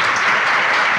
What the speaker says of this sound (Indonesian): Beri tepuk tangan untuk Fatayat